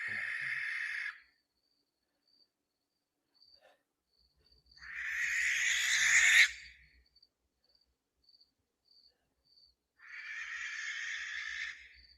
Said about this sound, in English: I want you to listen to the screech of the screech owl and blast that thing as loud as you can.